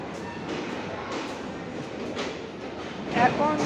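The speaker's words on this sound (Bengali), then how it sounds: "এখন যে ট্রেনটি যাচ্ছে এটা হচ্ছে রূপসা বা সীমান্ত এক্সপ্রেস, যেটা শিলাহাটি চলে যাবে" Rupsha or Simanto Express train passing through Jessore railway junction station in Bangladesh, a steady broadband rumble of rail cars with rising clatter toward the end and faint voices in the background.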